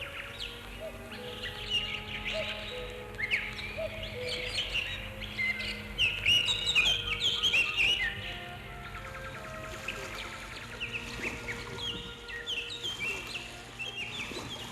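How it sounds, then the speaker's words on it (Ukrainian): Several birds chirp and sing in overlapping calls at moderate distance near Lake Svitiaz, Ukraine, joined by occasional clucking from fowl, with no talking. "Ось співають собі в задоволення. Де ще почуєш такий концерт пташиної симфонії?"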